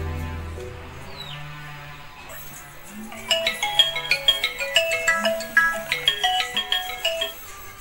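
A phone ringtone plays a bright, repeating melodic pattern of chiming notes, fairly loud and close, after a few seconds of quieter tones.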